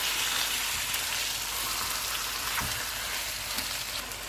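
Marinated chicken and tomatoes sizzle steadily in a pan of fried onions for chicken biryani, a continuous close frying hiss with a few soft stirring scrapes and no talking.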